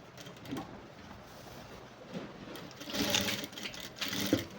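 A sewing machine stitches the folded hem of a straight pant in short, close, whirring bursts with brief pauses between runs.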